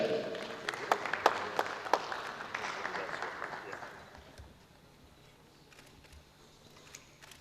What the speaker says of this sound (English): A round of applause for Tel 1, financial turnaround of the year.